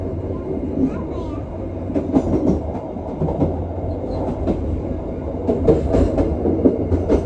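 An Indonesian train hauled by a CC201 locomotive rumbles steadily along the rails past Keramasan station, its wheels clacking over joints in a low, continuous roar, with voices murmuring faintly inside the carriage.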